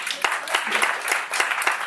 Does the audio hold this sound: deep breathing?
no